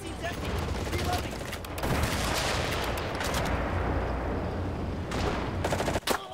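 Gunfire in the video game Enlisted, dense rapid bursts and heavy shots rattling continuously at close range, with a short pause before a final cluster of sharp cracks, a voice talking over parts of it.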